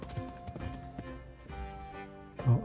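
Horse hooves clip-clopping in the Kingdom Come Deliverance video game, a series of spaced, fairly faint hoof knocks over a low musical game background, with a stronger thump near the end.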